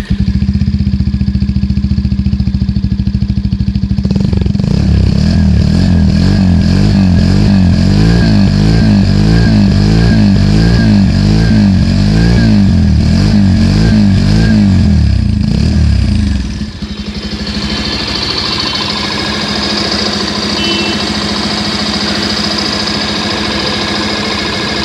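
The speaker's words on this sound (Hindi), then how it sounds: "अब आपको इस बाइक का जो एग्जॉस्ट नोट है वो भी सुना देते हैं।" A 2021 Bajaj Pulsar 150 twin disc motorcycle with a matte black heat shield runs close by, its exhaust note rising and falling through a series of revs for about twelve seconds before the engine cuts, leaving quieter background noise.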